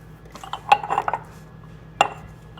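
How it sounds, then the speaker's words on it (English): A clove of fresh garlic is knocked into glass canning jars during pickling of green beans, giving a few close, light clinks and taps against the glass followed by one sharper knock. "I'm going to crack a fresh sprig of garlic inside of each jar here."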